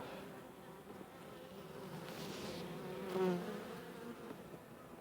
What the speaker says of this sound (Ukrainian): Бджола спокійна.